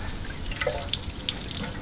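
Water drips from a dented bottle that has buckled but not burst, a few soft isolated drops falling close by over a faint background hiss.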